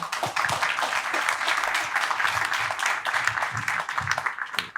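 A room of people at a conference on sovereignty and cyber-resilience claps for a few seconds, a dense patter of applause at moderate volume that thins toward the end.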